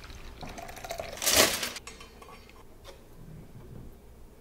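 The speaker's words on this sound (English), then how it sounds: "Coffee is ready. We pour it and let it cool." A brief splash of brewed coffee being poured, made for tiramisù, rises and fades within a quiet kitchen hush.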